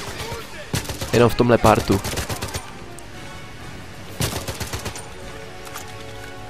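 Gunfire in the 007 Legends video game, a rapid volley of loud shots followed after a pause by a second shorter burst, while someone talks over the first volley.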